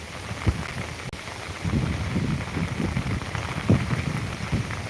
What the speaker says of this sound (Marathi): इथे सध्या पाऊस देखील चांगला मुसळधार चालू आहे आत्ता